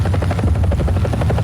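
A helicopter in a War Thunder-style combat flight game thrums steadily with a loud, rapid rotor chop and deep engine drone, close and continuous with no talk over it.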